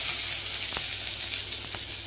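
Chopped onion fries in hot oil with bay leaf, cinnamon and cardamom for a pointed gourd pulao, a loud, steady close sizzle with a couple of brief clicks from a utensil, no talking.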